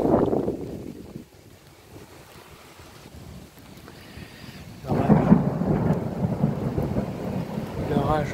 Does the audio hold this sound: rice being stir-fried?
no